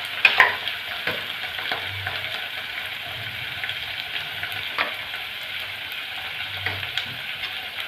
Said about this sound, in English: why are you doing the deep frying first?